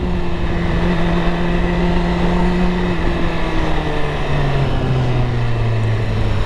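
A BMW S1000RR sport motorcycle accelerates hard in first gear, its loud, close engine note rising steadily in pitch and holding a sustained high-revving whine throughout, with no voices.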